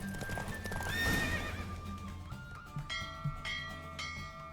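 A horse gallops in a race in the video game The Witcher 3, its rapid hoofbeats clattering with a loud whinny, followed by ringing bell tones and music.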